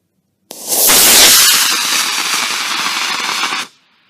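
A model rocket launch after a countdown: a sudden loud, hissing roar of the motor bursts in, holds steadily for about three seconds, then cuts off abruptly, close to the listener.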